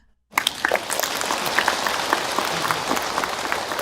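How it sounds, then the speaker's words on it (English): A crowd breaks into applause all at once after silence, dense clapping continuing steadily and fairly loud to the end. "If no, just clap."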